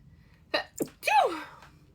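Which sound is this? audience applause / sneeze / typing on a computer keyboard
sneeze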